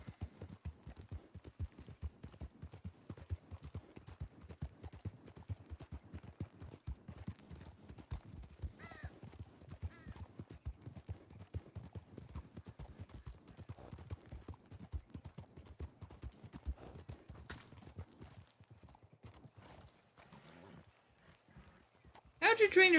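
Horse hooves clip-clop steadily in the Western roleplay game RedM, a dense rhythmic run of hoofbeats through most of the stretch, with a brief neigh-like call and a louder burst at the very end.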